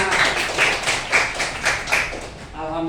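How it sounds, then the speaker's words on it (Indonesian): A group claps hands in a loose burst of several sharp claps, close and moderately loud, followed by a voice starting to speak at the end. "Ya, tepuk tangan buat kita semuanya."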